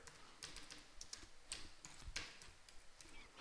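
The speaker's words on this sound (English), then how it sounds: "I'm going to type in hello world here." Keystrokes on a computer keyboard as the words hello world are entered, a quiet, irregular run of light clicks and taps, close and alone with no voices.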